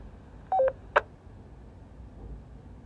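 Short beeping tones from a Wouxun KG-UV9GX handheld walkie-talkie on channel 1, a quick pair of electronic beeps followed by a brief click-like burst, fairly faint over a low background hiss.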